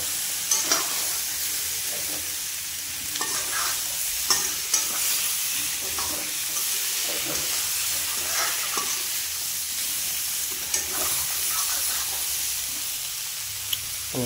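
Pork curry with tomato frying in a wok, a steady close sizzle with bursts of stirring and scraping throughout, no talking.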